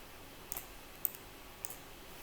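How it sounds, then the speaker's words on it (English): Plastic place value blocks snap together in three light, separate clicks about half a second apart, faint and close against a quiet room. "Oh, they even click on each other."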